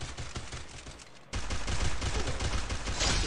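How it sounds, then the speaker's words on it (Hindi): A gunfire exchange in a Free Fire Clash Squad semi-final match: dense, continuous bursts of rapid shots, steady at first, then jumping louder and fuller partway through and staying intense to the end. "ट्रेड फायर हो चुका है गाइस"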